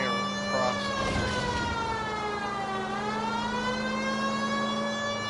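Wailing police sirens from the L.A. Noire video game rise and fall in a steady loud tone with rich harmonics, sweeping down and back up midway, accompanied by a low steady hum and a brief burst of noise near the start.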